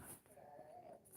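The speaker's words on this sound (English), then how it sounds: "That's my dog crying in the background." A dog with a sore ear whimpers in the background, giving a faint, thin whine that holds for about a second in a quiet room.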